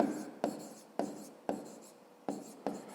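Handwriting on paper while working a fifth-grade math equation, with six distinct pen-stroke scratches in an irregular rhythm, close and fairly quiet, and no voice.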